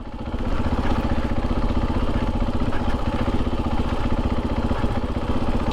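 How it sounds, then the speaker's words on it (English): A Husqvarna FE501s motorcycle engine with a Rekluse clutch, engine braking, running steadily with a low, pulsing rumble and a faint clatter, loud and close throughout, no voices. "I've now got engine braking."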